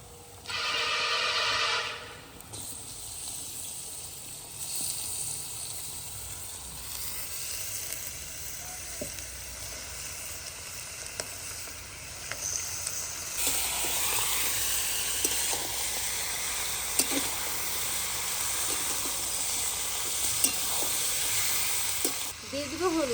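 Mutton going into a pan of fried onions sizzles and hisses steadily for the whole stretch, with a louder burst at the start and occasional stirring scrapes in a village-style cooking setting.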